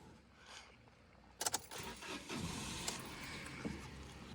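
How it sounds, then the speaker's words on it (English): A broken-down car's engine cranks and catches after a jump start from another car, a short burst of starter noise followed by a rough idle, heard fairly quietly and close by. "The car started."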